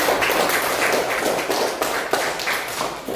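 Applause from a classroom of students during an algebra lesson, a dense, loud patter of many hands clapping steadily for about three seconds, with no talking over it.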